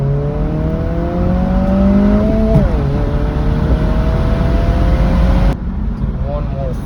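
A 2022 Honda Civic Si with a PRL stage 1 intake and resonator delete pulls in gear, its engine drone rising steadily in pitch for several seconds, loud and close from inside the cabin, then easing off.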